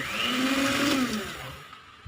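Electric mixer whirring steadily through banana cake batter of flour, baking powder and baking soda, a close, continuous motor drone that eases off toward the end.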